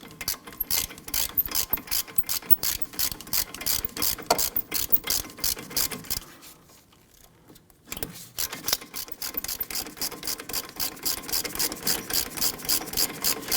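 Ratchet wrench clicking in quick repeated bursts while loosening a brake caliper bracket bolt on a 2017-2020 Hyundai Elantra, close and loud, with a short pause midway before the ratcheting resumes.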